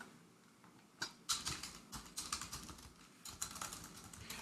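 Keys clatter on a computer keyboard in quick, uneven bursts of light clicks, close and fairly quiet, with no one speaking.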